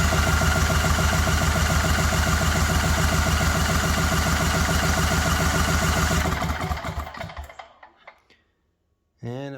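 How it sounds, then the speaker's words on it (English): The engine of a Winco HP9000E generator cranks in a loud, rapid, even chug during a compression test on cylinder 1, then slows, sputters and stops, followed by a brief thump. "And here's compression test on cylinder 1."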